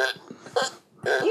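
Fart piano toy sounding a string of short, blurting fart noises in uneven bursts, close and fairly loud, with a brief rising squeal at the end and no talking.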